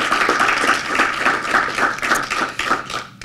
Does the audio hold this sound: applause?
yes